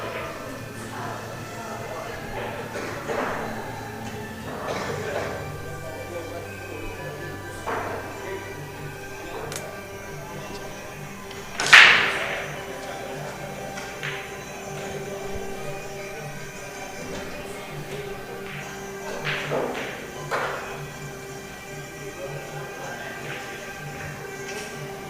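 At a pool tournament, a cue strikes billiard balls on the table: sparse sharp clicks, then one loud crack near the middle, while people talk quietly in the background.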